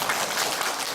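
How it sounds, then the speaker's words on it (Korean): A church congregation clapping steadily, a dense wash of applause without pauses. "우리 따뜻한 박수, 격려의 박수 부탁드립니다"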